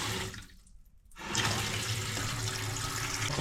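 A toilet cistern refilling after a plumbing repair. Water rushes steadily and loudly after a brief quiet moment, then keeps running at full flow.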